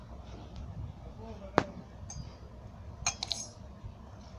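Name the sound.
nutmeg being crushed into a mixer jar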